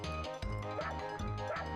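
A video game dog barks over steady background game music, giving a few short, repeated yips in a quick rhythm at moderate loudness.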